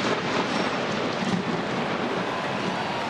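Thunder from a lightning strike rolls over a baseball game, heard as a loud, continuous broadband rumble with a rain-like hiss throughout and no clear pauses.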